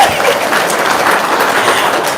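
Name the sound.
audience applause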